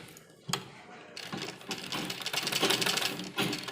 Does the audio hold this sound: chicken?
no